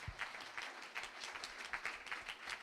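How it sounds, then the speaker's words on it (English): An audience at a Coral Gables commission candidates' election debate applauds, steady clapping from a crowd that sounds somewhat distant and fairly quiet. "let's have a hand of applause for them as we start"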